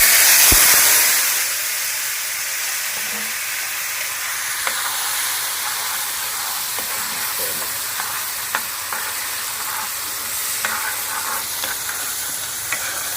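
Masala spices fry in oil for masala baingan, making a loud, continuous close-up hiss and sizzle that swells briefly at the start and then stays steady, with scattered light scrapes and clicks of stirring.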